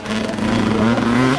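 A dirt bike engine drones steadily at the Red Bull Erzbergrodeo hard enduro race, loud and continuous with a fairly even pitch throughout.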